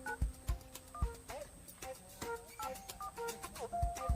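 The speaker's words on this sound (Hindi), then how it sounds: "आओ फोन लगाओ है फोनवा लगाई ली थे" A series of short beeping tones as a phone number is dialed, with clicks and faint background chatter in between.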